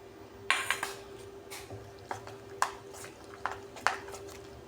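A spoon clinking against a bowl while corn dhirde batter with coriander is mixed, sharp metallic taps repeating irregularly about once a second over a quiet background.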